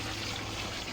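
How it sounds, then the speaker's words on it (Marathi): Tap water runs steadily while a car is washed at home, a continuous close splashing trickle with no voices. "गाडी धुवायचं काम चालू आहे"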